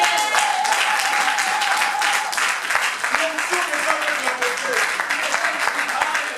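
A church congregation applauds for the Lord during a worship service, a dense, steady clapping that carries loud and unbroken throughout, with voices mixed in.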